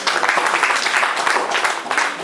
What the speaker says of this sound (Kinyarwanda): amashyi menshi kuri sinema n'ibikora